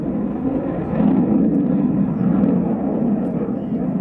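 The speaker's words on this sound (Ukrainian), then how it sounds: "здіймаються навчально-тренувальні альбатроси Л-39 та справжня бойова машина винищувач міг" L-39 Albatros training jets and a MiG fighter flying over the Ivano-Frankivsk military airfield during an air training exercise, a steady loud roar of jet engines that swells slightly midway and holds throughout.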